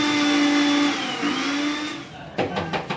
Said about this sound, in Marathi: आपण भाजून घेतलेला खडा मसाला तो आता मिक्सरमध्ये बारीक होत आहे.